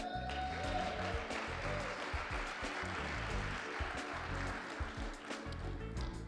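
Audience applause fills a Black History Month celebration hall, dense and steady clapping throughout with some voices mixed in, heard from a distance at moderate level.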